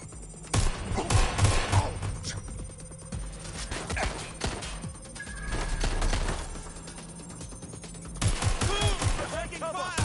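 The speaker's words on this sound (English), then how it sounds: "Taking fire!" Bursts of rapid gunfire in a first-person shooter, loud close shots and clattering volleys that come and go in clusters over a steady background hum.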